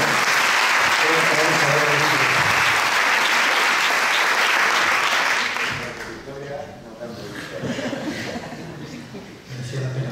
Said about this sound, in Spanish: Creo que Ricardo merece un aplauso por todo este trabajo.